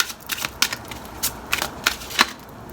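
Tarot cards being shuffled by hand, a series of crisp, close riffling and slapping bursts in an uneven rhythm.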